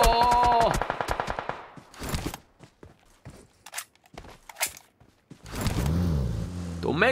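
Gunfire and movement in the mobile battle royale game PUBG Mobile: a loud burst of shots at the start, then scattered sharp reports, footsteps and mechanical clicks, ending with another loud stretch of shooting.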